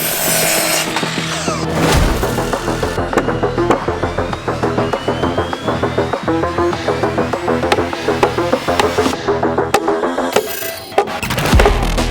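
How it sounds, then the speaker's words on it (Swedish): A power saw cuts wood repeatedly, its rough grinding buzz pulsing over several seconds and ending with a final sharp cut. "fortsätter såga upp material"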